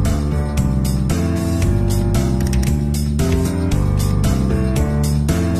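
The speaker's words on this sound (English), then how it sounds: "A cutter chops off each bulb's top and tail simultaneously." Onion processing machinery cutting the tops and tails off bulbs runs with steady clattering, ratcheting gear noise, rhythmic mechanical thumps repeating over a constant loud drone, with no voices.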